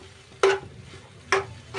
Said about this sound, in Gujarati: તો આવી રીતે આપણે હલાવતા રહીશું